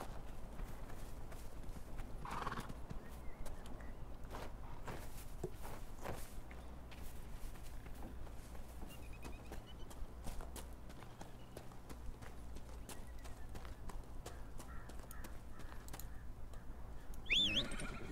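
Hooves clip-clop in a quick, steady rhythm as a horse gallops in the video game Dragon Age: Inquisition, over ambient outdoor noise, with a faint bird call and a brief flourish near the end.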